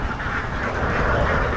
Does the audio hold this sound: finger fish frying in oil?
no